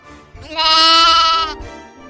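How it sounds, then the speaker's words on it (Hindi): A single sheep bleats loudly and close by, one sustained wavering call lasting about a second, with no talk over it. "भेड़ें आराम से चारा चर रही थी"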